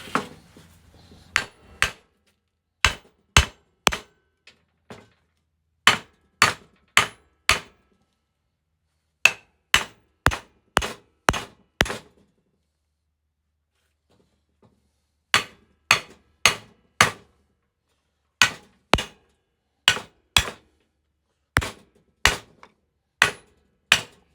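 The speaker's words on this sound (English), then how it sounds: "For the next few minutes, I'm going to beat it with a hammer." Sharp metallic hammer blows on a steel axle of a Honda Big Red 250es brake plate ring out in steady rhythmic bursts of three or four strikes, with short pauses between groups, loud and close.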